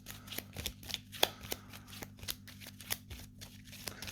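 Playing cards from the Apex Theropod card game are shuffled and gathered on a table, giving quiet, close riffling and a series of soft, irregular slaps and flicks.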